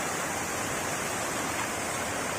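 Devkund waterfall in Odisha during monsoon roars as a steady, dense broadband rush of falling water, continuous and even across the whole stretch, with no voices.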